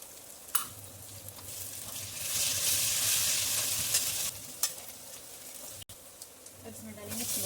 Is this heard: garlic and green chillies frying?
yes